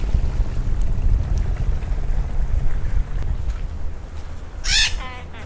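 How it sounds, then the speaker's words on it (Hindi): A parrot on Dhiffushi Island in the Maldives lets out one short, harsh squawk near the end, over a steady low rumble of wind and water by the beach. "ये प्यार प्यारा प्यारा तोता है देखो यहाँ पर"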